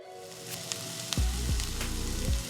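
Chopped bell pepper and jalapeño sizzle steadily in hot oil in a pan, a close, continuous frying hiss with a few louder crackles and soft thumps, no voices.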